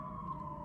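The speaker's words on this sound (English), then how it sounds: "Guys, I'm so sorry about the sirens." A steady, faint wailing tone holds through the moment, like a distant siren, with a soft low hum beneath.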